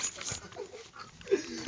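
A dog named Fran, Francesca, whimpers in soft, brief high whines at close range, with faint background noise and no clear talk.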